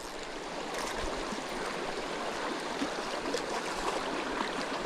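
Rushing water of creek rapids during brook trout fishing, a steady broadband roar that holds close and loud through the whole stretch with no voices.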